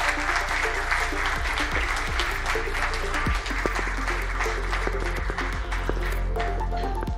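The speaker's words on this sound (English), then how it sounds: "let's give them a round of applause." An audience claps steadily as panelists take the stage at an investment conference in London, a full, continuous round of applause over a low hum, carrying on without voices for several seconds.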